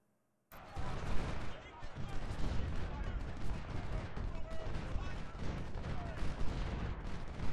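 Musket gunfire exchange between units in cover during the Antietam battle in Ultimate General: Civil War, a dense, continuous crackle of many shots and distant booms, steady and loud after a brief silent start.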